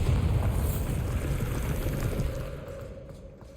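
A Bombarda spell explosion in Hogwarts Legacy, a dense rumbling blast with debris that fades gradually over a few seconds, heard alone.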